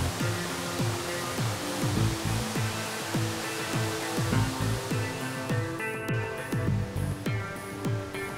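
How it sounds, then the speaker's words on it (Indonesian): Waterfall at Wasan Hutuni in Manusela National Park, Maluku, roaring steadily as a dense, continuous wash of falling water, close and loud throughout with no voices. "air terjun di Wasan Hutuni"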